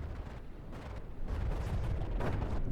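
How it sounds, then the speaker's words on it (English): Flares and incoming missiles in the From the Depths naval combat game make a dense, rumbling barrage of pops and blasts that swells louder partway through and stays heavy to the end. "If these flares are popping off"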